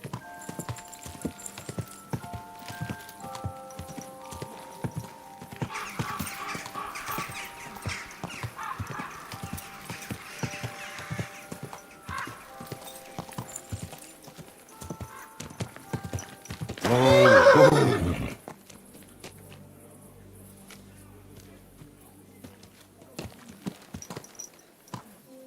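Horse hooves clip-clopping steadily in Kingdom Come: Deliverance II, with a loud, close neigh rising partway through, then the hoofbeats continuing more sparsely.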